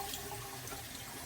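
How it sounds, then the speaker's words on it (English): Cilantro being rinsed under a running kitchen tap, a steady, even rush of water into a sink, close and continuous without any talking. "Let's give it a quick rinse."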